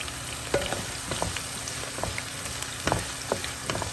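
Onions frying in a pan give a steady sizzle close by, with sharp scraping stirs clicking through it at irregular intervals and no voices.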